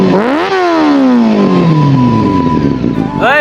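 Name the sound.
motorcycle with loud silencer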